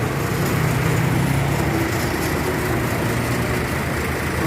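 Diesel engine of a Hino truck running steadily, a loud, continuous low rumble with a rough mechanical texture and no pauses, close by and with no voices over it.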